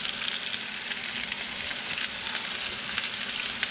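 Mexican chilies, resembling New Mexico or Anaheim chilies, sizzle steadily on a hot street-food griddle beside bacon-wrapped hot dogs, a dense continuous hiss with faint crackles, close and loud, with no talking.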